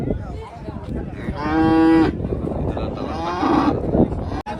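HF and Jersey calves and cattle at the Chintamani Sunday calf market give two loud, drawn-out moos close by, over a background of market chatter and murmuring voices.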